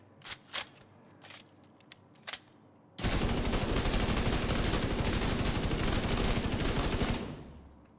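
Gunfire in a shooter video game: a few scattered single shots, then a sustained, loud burst of rapid automatic fire lasting about four seconds before cutting off.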